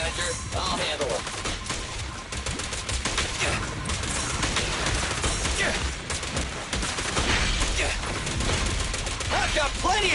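Rapid bursts of gunfire from the action game Zenless Zone Zero, dense and loud under a game soundtrack, with a voice talking over the shooting.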